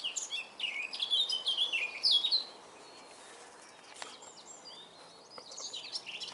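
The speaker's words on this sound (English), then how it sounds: "You hear that bird singing?" A songbird sings outdoors on a spring morning walk, bright chirping phrases in a lively burst early on, then a pause, then more scattered calls, moderately near against quiet surroundings.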